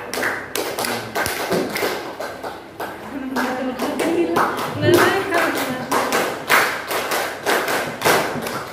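A group at a training session claps together in the "2-2-1" pattern, a repeating rhythm of taps and pauses, with voices talking between and over the claps.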